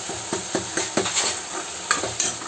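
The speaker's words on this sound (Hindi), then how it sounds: "यहाँ पर तड़का हो चुका है, अब मैं डालूँगी इसमें दाल" Dal poured and stirred into a sizzling tadka tempering in a pan, a steady close frying hiss broken by a series of soft stirring thumps and scrapes, with no one talking.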